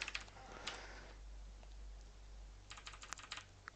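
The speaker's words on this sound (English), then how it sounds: "use your comma and your period keys on your keyboard" Comma and period keys on a computer keyboard are tapped to change time warp in Kerbal Space Program, giving a quick cluster of clicks, a pause, then another rapid burst of presses, quiet and close over faint hum.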